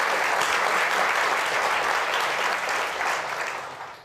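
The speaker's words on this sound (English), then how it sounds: "That's applause-worthy right there" Audience applause after a remark at a Berkeley free-speech event with Richard Dawkins: dense, sustained clapping from a large crowd, loud and steady, tapering slightly near the end, with no talking over it.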